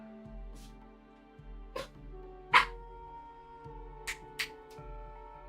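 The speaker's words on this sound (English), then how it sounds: "You might hear her barking in the background" A small dog barks in short, scattered yips in the background of a quiet room, with several sharp barks spread unevenly across a few seconds, one louder than the rest.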